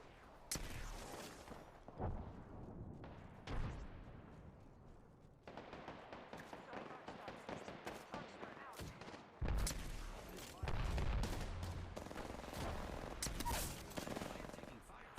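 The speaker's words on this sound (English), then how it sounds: "I picked up a mod that turned my shotgun into an energy weapon that ended up shooting long range" Rapid bursts of energy shotgun fire in the video game Apex Legends, loud repeated blasts in dense clusters with short pauses, layered with other battle noise and game voice lines.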